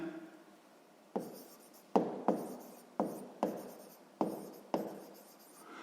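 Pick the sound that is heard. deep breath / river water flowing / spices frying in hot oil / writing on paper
writing on paper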